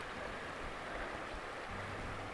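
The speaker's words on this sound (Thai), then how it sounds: "ช่วงนี้ก็น้ำไหลแล้วค่ะ" Steady broadband rush of water flowing down a countryside stream and into a pipe, continuous and fairly close, with no voices.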